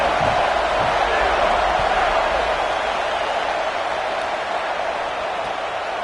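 A home stadium crowd in a College Football 27 video game roars in a dense, steady wash of cheering at kickoff against Auburn, loud and unbroken for several seconds.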